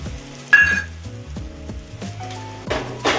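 Moong dal tipped into hot oil for a quick fry: a loud burst of sizzling rises as the lentils hit the pan, then low frying crackle with soft stirring scrapes and a second flare of sizzle near the end, no talking.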